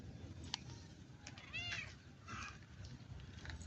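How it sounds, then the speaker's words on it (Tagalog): A cat meows several times in a vegetable garden, drawn-out close cries over a steady outdoor hum, with no talking. "Sali-sali naman itong pusa na to."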